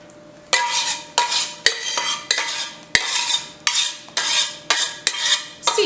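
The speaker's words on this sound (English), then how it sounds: "And then we're just going to mix that until everything comes together." Buttermilk rusk dough being mixed in a bowl produces about ten evenly spaced scraping strokes, each a sharp hit swelling into a rough smear, repeating in a steady rhythm up close.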